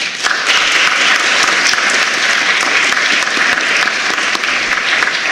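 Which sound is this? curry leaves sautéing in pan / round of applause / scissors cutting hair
round of applause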